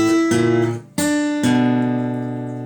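Acoustic guitar picking a fingerstyle passage from a piece in G, with the chord voicing lines reversed; several plucked notes and ringing chords, close and clear, sustaining and decaying at the end.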